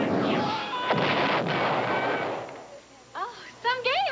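A Star Wars arcade video game fires laser and cannon shots in a dense, noisy burst, followed by quieter warbling electronic tones near the end while people talk over the action.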